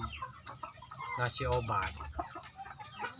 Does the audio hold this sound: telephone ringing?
no